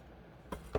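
Wire cutters snip through craft wire while a tree of life wire ornament is being made, giving two quick, close, crisp clicks in an otherwise quiet room.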